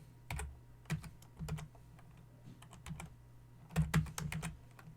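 Typing on a computer keyboard while entering network configuration commands, giving quick irregular clicks and small clustered bursts of keystrokes, close and clear against a low steady hum.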